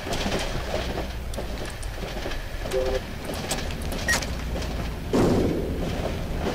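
A steady, rumbling train ride inside the Cry of Fear game, with rolling wheel noise and occasional thumps and brief metallic tones, and a louder surge near the end.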